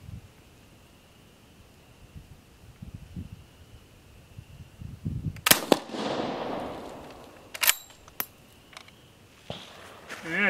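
An M1886 Austrian Mannlicher rifle fires on an outdoor range: one sharp crack with a trailing rumble, then another shot a couple of seconds later, after quiet talk and a faint steady tone.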